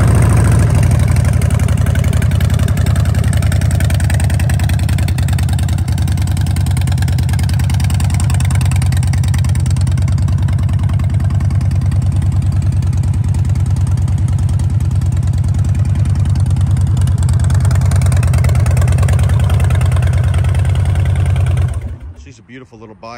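A 2014 Harley-Davidson Street Bob motorcycle engine idles steadily with a deep, loud, even rumble for about twenty seconds, then cuts off abruptly near the end.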